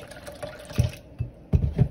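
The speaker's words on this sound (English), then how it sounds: "So I will add some more water in it" About half a cup of water poured into a tangy raw mango drink, splashing in short bursts with a few louder glugs close by.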